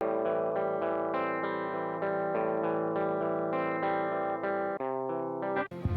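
An electric guitar runs through a Joyo American Sound amp-simulator pedal with built-in speaker emulation straight into an audio interface, unprocessed; a steady strummed chord pattern, dry and close, ending with a brief pick scrape.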